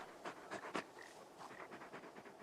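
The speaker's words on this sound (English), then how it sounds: "Just a big puppy, aren't you?" Torgal, the dog in Final Fantasy XVI, panting in quick rhythmic breaths, faint and close, with a few stronger huffs early on.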